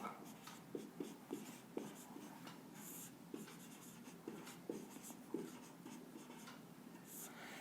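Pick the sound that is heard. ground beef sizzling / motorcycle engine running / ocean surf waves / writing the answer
writing the answer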